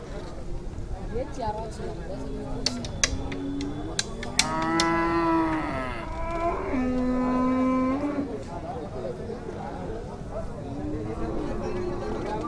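Several cattle moo at intervals at a cattle market before Eid, long low drawn-out calls, some overlapping, against a busy outdoor background with faint people chattering.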